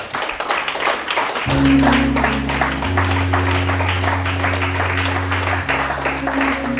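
A church congregation applauds in dense, steady clapping, loud and sustained, with an organ or keyboard chord holding underneath and shifting partway through.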